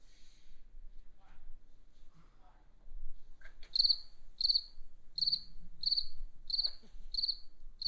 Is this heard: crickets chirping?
yes